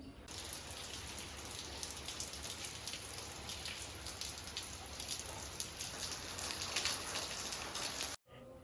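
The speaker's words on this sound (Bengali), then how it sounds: "বৃষ্টি দেখে হয়তো বা আওয়াজ শুনে বুঝে গেছেন সকাল থেকে এত বৃষ্টি" Heavy morning rain pours steadily in a dense, even hiss with close patter, continuous and fairly loud throughout before cutting off briefly near the end.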